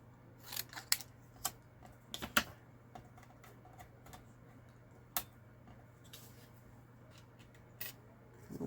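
Scissors cut out paper pieces for a craft project, heard as sparse, faint, sharp snips and clicks spread unevenly over a quiet background hum.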